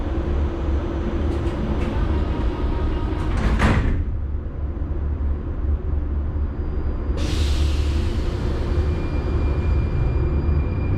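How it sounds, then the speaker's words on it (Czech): Metro train doors closing on a station platform: a sharp sliding thud around the middle, then a loud hiss of released air over the steady low rumble of the train. "dveře se zavírají."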